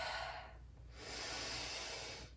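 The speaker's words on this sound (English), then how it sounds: "Breathing." Deep breathing during a yoga flow for leg strength: a slow, close exhale, a short pause, then a long airy inhale, with no talking.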